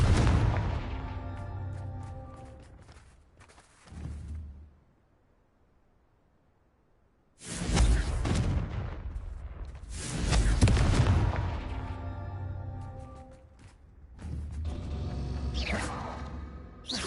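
Confringo fire spells blast in the Hogwarts Legacy video game: a run of deep booming impacts with whooshing tails, loud and close, separated by short quiet gaps.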